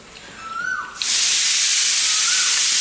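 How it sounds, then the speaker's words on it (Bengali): A pressure cooker cooking chana dal on a home stove whistles as it releases steam: a faint tonal sound first, then a sudden loud, steady hiss from about one second onward that holds to the end. "ওই যে সিটি পড়ছে"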